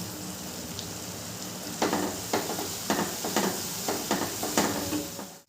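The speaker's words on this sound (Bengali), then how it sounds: "মশলাটাকে খুব ভালো করে কষিয়ে নেব" Spice paste for bhuna khichuri fries in a pan with a constant hiss, broken by a run of about eight sharp scraping stir strokes that come in quick, fairly regular bursts near the end.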